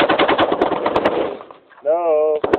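Rapid bursts of machine gun fire rattle loudly and close for over a second, followed by a short pause and a sustained tonal whine, with voices heard briefly.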